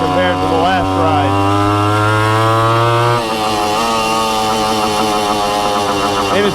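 Suzuki TC-90 motorcycle engine running steadily and loud throughout, a strong low drone in the first half that shifts pitch midway as the revs change, with harmonic whine above.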